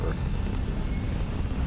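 Steady low roar of a spaceship lifting off in the video game Starfield, a continuous broad rumble holding at even loudness throughout, with no speech.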